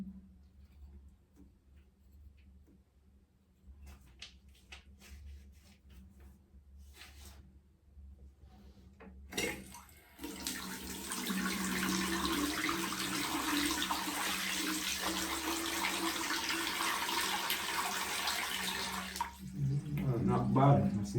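A newly installed basin mixer faucet is turned on partway through, its running water a steady, close hiss that continues for several seconds before being shut off, with quiet handling sounds before it starts.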